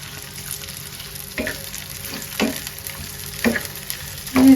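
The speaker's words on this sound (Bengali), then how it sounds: "বাগারের লেগে তেল দিয়ে দিলাম, পেঁয়াজ আর রসুন কুচি দিয়ে দিলাম।" Chopped onion and garlic sizzling steadily in hot oil for a lentil tempering, loud and close, with a few spatula scrapes against the pan and no talk.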